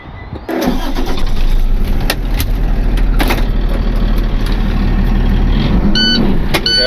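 A stolen truck's engine cranks and catches, then runs loudly and steadily close by, with a low rumbling idle and some clanks over it, with no talk.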